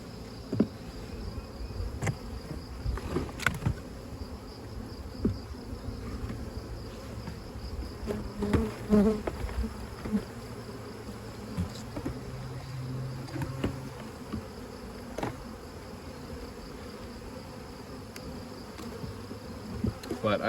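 Honey bees buzz around hives outdoors while colonies are being split, a continuous close swarm hum with individual bees passing near, plus occasional knocks and handling of hive equipment.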